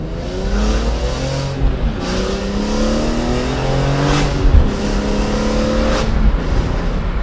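A car engine fitted with a new carbon fiber intake revs in rising sweeps, several climbing pulls separated by brief dips and a small stumble, loud and close.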